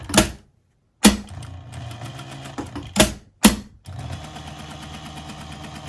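Sewing machine stitching a narrow seam on a fabric cardinal ornament, in short loud bursts of rapid stitching separated by pauses, then a steady run of machine whirring toward the end.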